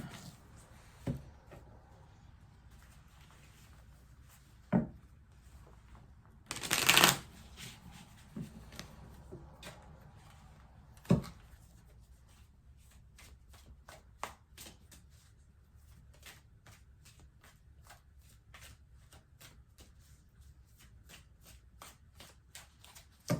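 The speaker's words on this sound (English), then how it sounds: "Nice, good shuffle." Soft, continuous riffling and shuffling of a tarot deck (Modern Witch Tarot), with occasional louder slaps and taps as cards are squared, no talking.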